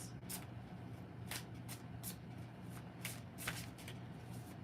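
Tarot cards being shuffled close by in a quiet room, with a string of crisp riffling bursts and soft card slaps over a low steady hum.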